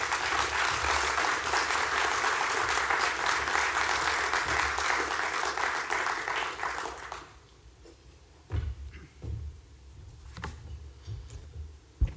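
Conference audience applause welcomes a speaker, a dense sustained clapping from a large crowd lasting about seven seconds before dying away into room noise and a few knocks.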